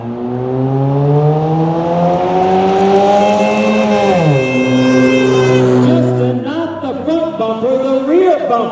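At the 2016 Black Cat Auto Thrill Show, a stunt car's engine holds a loud, steady roar that climbs in pitch, drops sharply, then revs unevenly up close.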